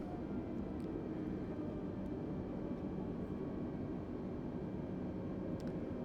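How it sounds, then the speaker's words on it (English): An Airbus A320 slowing down on the runway after autoland in Microsoft Flight Simulator 2020 makes a steady, loud broadband engine roar that holds throughout without speech. "So right now the aircraft is decelerating."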